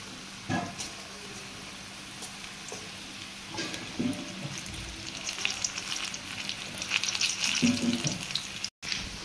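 Chickpeas dropped one by one into hot oil fry with a steady sizzle and crackle, broken by occasional sharper pops and spatters that grow busier toward the end.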